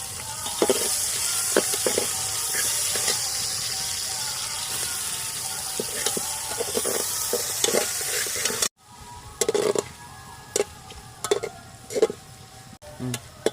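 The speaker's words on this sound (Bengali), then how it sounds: "তেলের মধ্যে তেজপাতা দিয়ে দেবো আর কিছু গোটা গরম মশলা দিয়ে দেবো অল্প করে কুচিয়ে রাখা পেঁয়াজও দিয়ে দেবো" Bay leaves, whole garam masala and chopped onion sizzling in hot oil in a pan, a steady close frying hiss broken by repeated clinks and scrapes of a stirring spoon, with a brief cut partway through.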